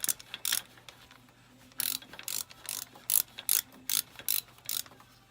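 Ratchet wrench clicking in repeated short bursts while tightening water pump bolts on a Ford Thunderbird 4.6L engine, about a dozen crisp ratcheting strokes close up over a low steady hum.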